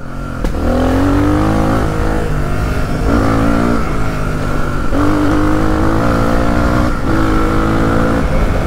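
A Suzuki DR 350 enduro motorcycle engine revs hard and continuously up close, its pitch climbing and dropping in repeated surges of throttle.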